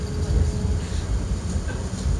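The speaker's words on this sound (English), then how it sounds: "I am inside the tram" A tram rolls along its rails, heard from inside the car as a steady low rumble and rattle with faint squeals, continuous and fairly loud throughout.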